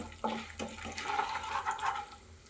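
Spoonfuls of chana dal and urad dal sizzle in hot oil in a home kitchen while tempering for a chutney, a steady close hiss and crackle throughout with no talk.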